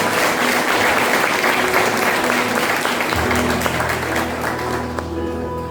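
A church congregation applauds at an evening Sunday service, a loud, steady wash of clapping with some voices mixed in and a low sustained tone entering partway through.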